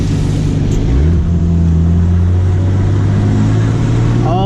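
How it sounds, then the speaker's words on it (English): Nissan RB25DET car engine under boost, turbo failing; loud, close engine drone with a rising then steady tone, rough and strained, ending in a brief whistling squeal. "I just blew my turbo!"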